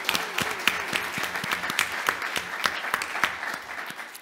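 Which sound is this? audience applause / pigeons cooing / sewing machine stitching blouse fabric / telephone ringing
audience applause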